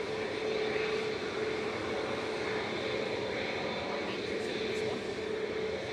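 An airplane departing, a steady, fairly loud engine roar with a faint tonal whine running through it, holding constant throughout with no clear talk over it.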